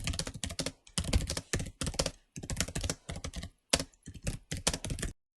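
Bursts of rapid clicking keystrokes as text is typed on a computer keyboard into an editor dialog box, close and clear with short pauses between runs and no talk.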